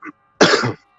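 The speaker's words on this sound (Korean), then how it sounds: "기침 나올 것 같아서" A short throat-clearing grunt, then a brief pause and a single harsh close cough, both loud against silence.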